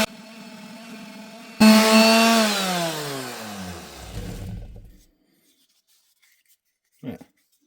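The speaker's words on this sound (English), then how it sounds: "Now to go and sand out all the way around the edge, top, make it look pretty" Power sander working the edges of a copper wind chime piece with 60 grit paper, a loud harsh whine starting abruptly then winding down in pitch as the tool stops, followed by silence and a brief faint knock.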